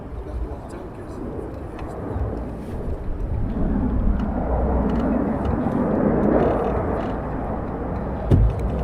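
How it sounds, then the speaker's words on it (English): Fighter jets making full-stop landings at RAF Lakenheath produce a broad, distant roar that swells and fades under the steady rumble, while people talk nearby. "These are landing as well, doing a full stop landing."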